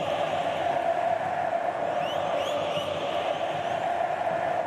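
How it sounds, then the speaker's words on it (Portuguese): Cruzeiro football fans crowd the Mineirão stadium before the 2024 Campeonato Mineiro final against Atlético-MG, a continuous roar of massed singing and cheering heard from a distance. "Vamos ouvir um pouquinho a torcida do Cruzeiro no Mineirão"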